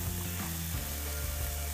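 Garlic and onions frying in a pan, a soft steady sizzle with faint scraping and stirring clicks, quiet and close, no talking.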